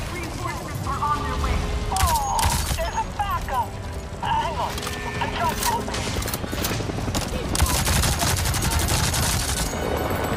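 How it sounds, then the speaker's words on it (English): Rapid gunfire and bursts of automatic shooting in the sci-fi shooter Avatar: Frontiers of Pandora, sharp cracks mixed with mechanical clatter and chirping effects over dense battle noise, with a person talking over it. "Or I could just shoot it"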